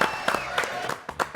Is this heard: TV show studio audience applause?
yes